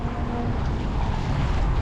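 A gust of wind roars across the microphone aboard a Hobie sailboat near a pier at Port Isabel, Texas: a steady, loud, broadband rush with low rumble, no voices.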